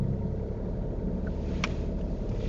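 Manual car pulling away during a driving lesson, its engine giving a steady, close, low rumble throughout the clip, with no voices.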